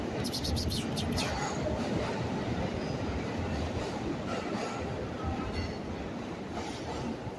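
A subway train rumbles through the Times Square station in New York with a steady roar, wheels screeching and clattering over the rails, with faint voices in the background.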